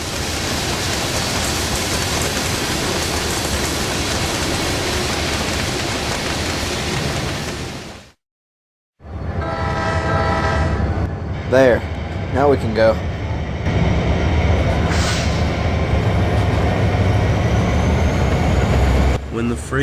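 Freight train rumbling past with heavy, steady noise that cuts out abruptly, followed by quieter background and short horn-like tones while people speak.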